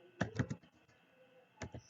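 Quick bursts of keystrokes on a computer keyboard while a short hello world Java program is typed, two clusters of close clicks separated by a quiet pause, with no speech.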